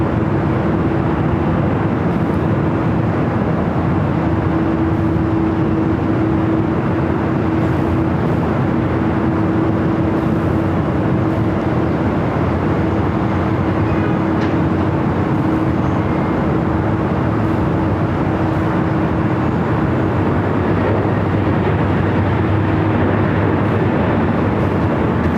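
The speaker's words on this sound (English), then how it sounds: "Emirates now heading up here for north side to take off. This A380 is wearing the updated livery." An Emirates Airbus A380 in updated livery taking off from the north side at LAX, a loud, sustained engine roar with a steady low hum that holds for the whole stretch.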